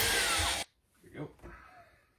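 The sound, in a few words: power drill drilling into the ground for lights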